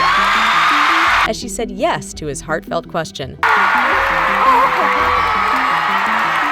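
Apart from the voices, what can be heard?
crowd cheering and applauding a proposal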